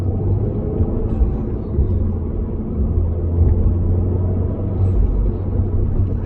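A Citroen DS3 engine fitted with a performance induction kit, heard as a steady low idling rumble with a deep throbbing drone, close and continuous with slight swells in level.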